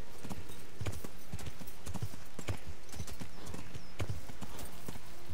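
Rhythmic clip-clop of horse hooves at a steady trotting pace in the video game Kingdom Come: Deliverance, close and clear, repeating throughout with no talking.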